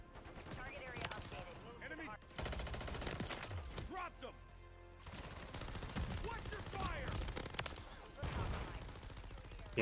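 Gunfire in Call of Duty: Modern Warfare 3 during a multiplayer match, likely a Striker 9 submachine gun: dense bursts of rapid automatic shots and explosive impacts, loud and close, broken by short lulls.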